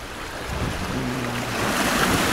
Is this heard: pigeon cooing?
no